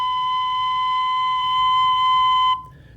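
A single sustained bamboo flute note, played with only the top hole covered by the left hand, a pure steady whistle-like tone held for about two and a half seconds and then stopping.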